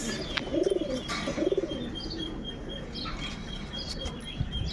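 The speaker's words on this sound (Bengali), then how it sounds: "এ হচ্ছে আপনার 8 পিস কবুতর, 4 জোড়া কবুতর।" A teddy pigeon coos twice in soft, rolling phrases close by, with faint chirps and background noise between.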